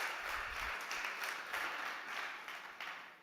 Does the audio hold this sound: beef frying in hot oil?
no